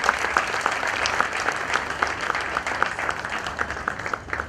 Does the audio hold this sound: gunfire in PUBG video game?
no